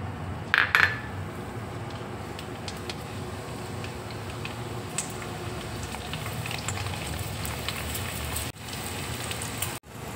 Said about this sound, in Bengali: এবার দেখো সাবুটা আমি ভেজে নিচ্ছি।